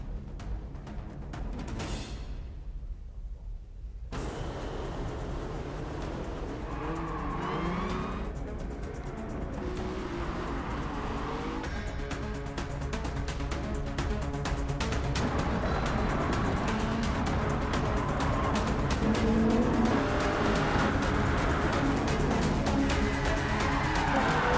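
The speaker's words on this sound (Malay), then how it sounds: "So siapa yang meminati game kereta, Perlumbaan kereta perlumbaan kereta." Roaring engines of racing cars in a car racing video game, a sustained loud drone with shifting pitch and passing whooshes throughout, with no clear tire squeal standing out.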